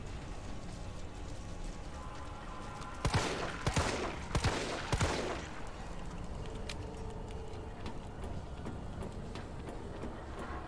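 A burst of gunshots in the video game Resident Evil 3, several sharp reports clustered midway through, standing out against a quiet background of faint game ambience.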